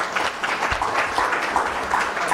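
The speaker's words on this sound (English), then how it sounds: "A round of applause to our panelists." An audience at a conference opening ceremony applauds panelists after a panel discussion, a dense, steady wash of many hands clapping together at close range.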